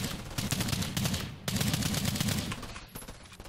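Rapid gunfire from a long-range weapon in the co-op zombie shooter Earthfall, dense bursts of shots running almost continuously with two brief breaks, loud and close.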